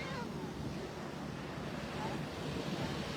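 Strong waves breaking on a sandy beach, a steady loud roar of surf mixed with wind buffeting the microphone, continuous throughout with no clear gaps.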